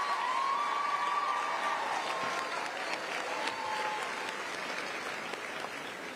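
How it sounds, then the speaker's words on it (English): Audience at a 2024 Navarro Early College High School graduation ceremony applauding the honor graduates, a sustained wash of many hands clapping throughout, with a faint voice and tone drifting over it. "please join me in another round of applause for the Navarro Early College High School honor graduates"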